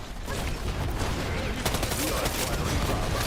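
Gunfire in a shooter video game, pistol and rapid bursts popping densely and loudly over a chaotic mix of game sound, with a voice speaking over the shooting.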